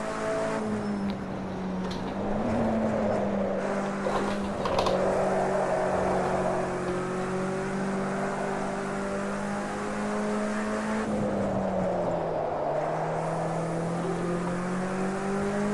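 A Mitsubishi Lancer EVO or Honda Civic sliding around a corner, heard from inside the car: a steady, loud engine drone whose pitch rises and dips with throttle changes, plus faint scrubbing noise, continuous for about sixteen seconds.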